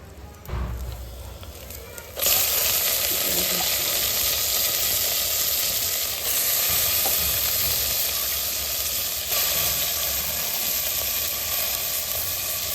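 Country chicken frying in oil in a pot for a Sunday curry, a loud, steady close-up sizzle and hiss that swells after a quieter start, with a voice speaking over it.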